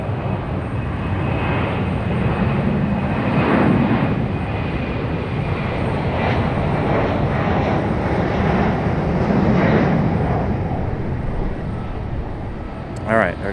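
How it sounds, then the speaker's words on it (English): A Boeing 777 airliner pushes back at Raleigh-Durham airport, its engines giving a steady broadband roar that swells and eases over several seconds, with voices faintly underneath. "our 777 is pushing back"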